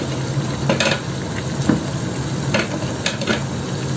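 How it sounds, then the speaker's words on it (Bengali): Cauliflower and potato are stirred in a pan in a Bengali home kitchen, a dense, loud sizzle with repeated scraping strokes of a spatula against the pan at an uneven rhythm. "আলু এবং ফুলকপি সব দিয়ে দেবো ভালোভাবে দিয়ে নাড়া দিয়ে"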